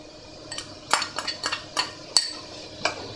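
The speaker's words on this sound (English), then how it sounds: "we're just going to stir this until those onions are beautiful and soft" A utensil scrapes and clinks against a pot while onions, garlic and ginger are stirred in oil, a series of sharp, close metallic taps spaced unevenly over a low, quiet background.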